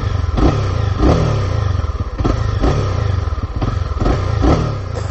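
A Honda CB300R motorcycle engine idles close by and is revved repeatedly in short bursts, throaty and loud with a pulsing rhythm, outdoors in light rain.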